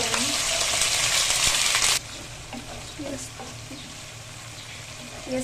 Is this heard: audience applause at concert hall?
no